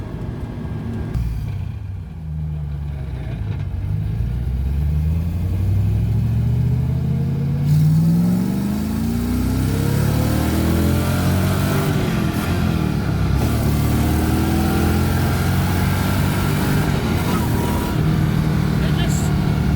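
An LS1-swapped Nissan 240SX engine revs loudly and close, rising and falling in pitch across several throttle sweeps over a steady rumbling idle, with exhaust drone throughout.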